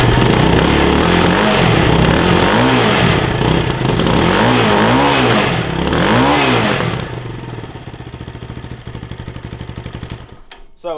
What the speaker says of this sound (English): But we'll just give it a couple revs.